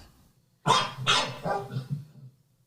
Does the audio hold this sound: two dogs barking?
yes